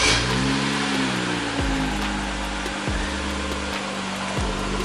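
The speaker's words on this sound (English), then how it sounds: "If you're wondering where the sound's coming from, that's a muffler delete." A BMW E90 with a muffler delete idling up close, its loud, raspy exhaust drone steady and continuous, with a few brief dips and blips in engine pitch.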